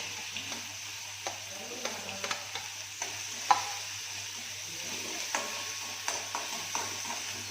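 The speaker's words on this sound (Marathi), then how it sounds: "याला नॉर्मल असं परतून घेते" Chopped onion sautés in a pan with mustard seeds, cumin and asafoetida, giving a soft, continuous sizzle broken by light scraping stirs and small ticking pops at close range.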